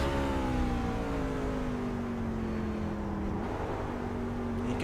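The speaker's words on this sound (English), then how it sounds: "You could hear there the downshift, really in the middle of the corner." Racing truck in a sim racing game at Martinsville, its engine droning loud and steady mid-corner, pitch sliding gradually downward, with a brief blip as it downshifts partway through.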